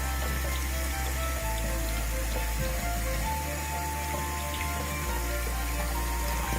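Running tap water splashes steadily as crystals are rinsed beneath it, a loud continuous stream with faint shifts in tone as the stones move under the flow, no voices.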